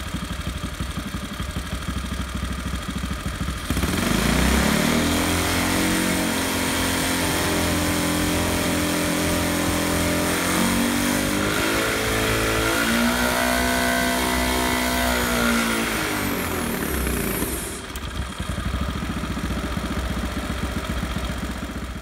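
A small engine running on a dyno behind a glass shield during fuel-grade testing, its steady drone rising in pitch as it revs up, holding high, then dropping back, loud and continuous with no talk.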